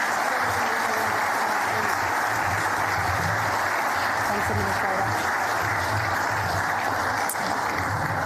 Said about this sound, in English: Shall we have another round of applause for both of our administrative medals recognising?